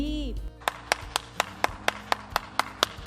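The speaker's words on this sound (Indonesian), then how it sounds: "tepuk tangan dulu dong buat Tuhan" Hands clap sharply about a dozen times in a quick, steady rhythm, close and distinct, right after a voice finishes speaking, during a children's online Good Friday program.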